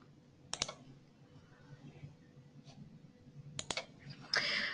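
A few sharp computer mouse clicks, heard alone against a quiet room background: a double click early on, a second pair later and a brief rustle at the end.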